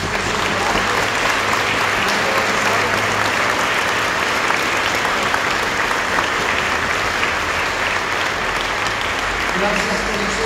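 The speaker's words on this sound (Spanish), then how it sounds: "les pido también que les demos un fuerte aplauso por todo este esfuerzo" A church congregation gives loud, sustained applause during a procession bringing a statue of Our Lady of Fátima into a parish, with voices mixed into the steady clapping throughout.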